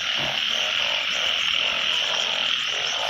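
Frogs and toads croak in a dense, unbroken chorus after rainfall, a loud and steady layered trilling that fills the whole stretch with no voices.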